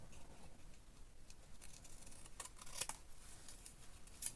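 Scissors snipping along pencil-drawn cut lines on patterned fabric around a triangle shape, giving a few quiet, close crisp clips spread over a soft background hiss.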